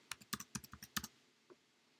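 Computer keyboard keys tapped in a quick burst of about nine close, crisp strokes while a search term is entered, then a single softer keystroke after a short pause, with no talking.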